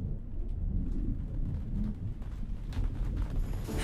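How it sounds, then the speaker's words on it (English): Rain falls steadily in a storm-effect bed, with deep low rumbling thunder rolling beneath a constant wash of drops, moderately loud and without speech. "Then it began to rain."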